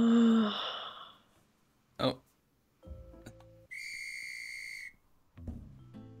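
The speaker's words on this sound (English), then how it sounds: "Wait, why is there a whistle?" A steady, high, bright whistle blows for about a second in the video game Last Stop, set among breathy sighs and short game sound effects.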